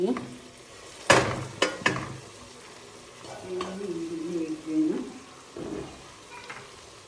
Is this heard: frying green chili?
yes